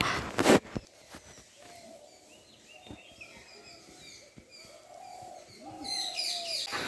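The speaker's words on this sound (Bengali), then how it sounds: "আর দূর থেকেই পাখির ডাকটা শুনতে পাচ্ছ" Several birds call and chirp at a distance in the morning at Susunia Hill, Bankura, West Bengal, scattered high twittering notes over a quiet outdoor background, with a few faint knocks and rustles.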